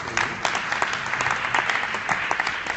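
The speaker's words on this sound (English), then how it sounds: "big round of applause for all our volunteers" Audience applause fills a conference hall for the volunteers, a dense, steady patter of many hands clapping at full strength throughout without pause.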